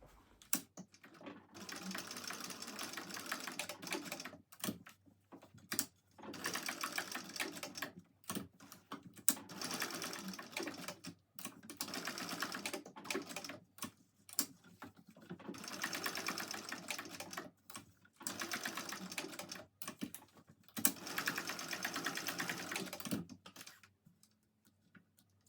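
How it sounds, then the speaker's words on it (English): Close, moderately loud sewing machine stitching in short repeated bursts as a small box with an X is sewn through a Cornish backpack, with brief pauses and clicks between each run of stitches. "what we want to do is just sew a little box about 1 inch high, and then put an X through it as well"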